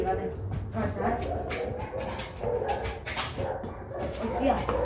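Several dogs barking and whimpering outdoors, the yapping repeating constantly over a busy mix of voices, birds and background noise.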